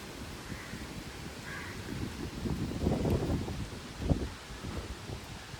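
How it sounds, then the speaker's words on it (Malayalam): Steady cold wind rushes and buffets the microphone in a low, continuous roar, with a few faint caws from crows in the distance. "എവിടെയോ മഴ പെയ്യുന്നുണ്ട് അതാ നല്ല തണുത്ത കാറ്റാണ് വീശുന്നത്"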